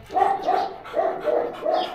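An American Bully dog whimpers after a fight, giving five close, fairly loud whining yelps in a quick uneven rhythm.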